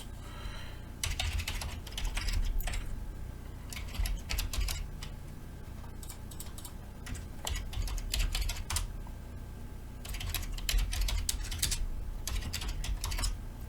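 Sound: typing on a computer keyboard

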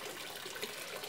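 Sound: watering plant with PET bottle watering can

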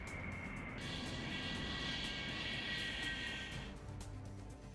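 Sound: MiG-31 fighter jets flying during exercise

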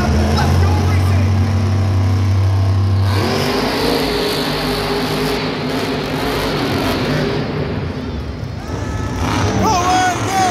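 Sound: monster trucks racing at Monster Jam, Ford Field Detroit

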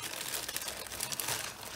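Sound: plastic wrapping crinkling as item is pulled from bag

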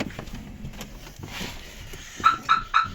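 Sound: car alarm chirp

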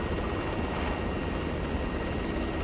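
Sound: Black Hawk helicopter in video game ArmA 3

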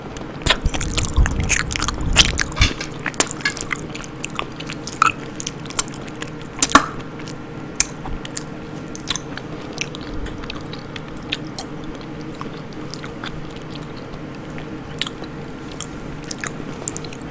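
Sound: eating peanut butter, ASMR chewing

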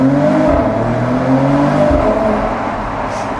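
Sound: Mercedes-AMG E53 Cabriolet engine sound in a tunnel

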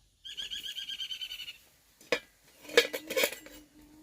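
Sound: lid placed on a pot of eggs and potatoes for boiling

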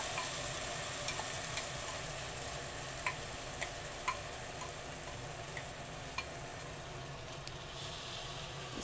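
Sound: stirring barley dalia with vegetables in a pan

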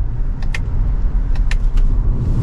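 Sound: Lexus NX350 SUV driving

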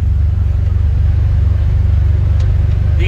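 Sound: Can-Am Defender Limited UTV cab noise driving over rocks

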